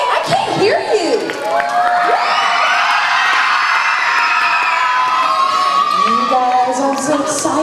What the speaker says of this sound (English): Union Wildcats, let's give them a cheer.